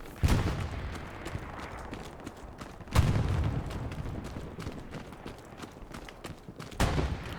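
Gunfire in the World War II shooter Hell Let Loose during a competitive match on the Utah map: a few heavy booming shots and scattered distant cracks under a rumbling battlefield background.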